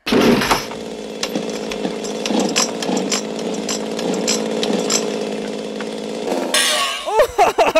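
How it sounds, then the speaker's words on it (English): A loud chainsaw in a 1980 horror film's chainsaw fight buzzes and revs steadily, punctuated by clanks and impacts, then cuts off into a few sharp crashes and brief voices. "Good thing they got a lot of chainsaws."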